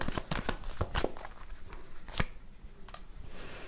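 Tarot cards shuffle close by in a run of quick riffling bursts, then lighter slides and taps near the end, with no talk over them.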